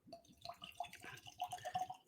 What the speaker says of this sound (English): going to pour this up